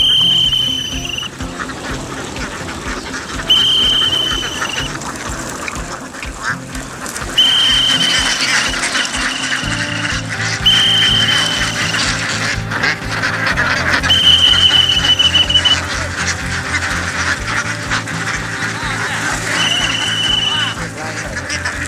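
A flock of ducks on a rice farm quacks loudly and repeatedly, dense overlapping calls close by with intermittent sharper honks, over a low rumbling background and some voices.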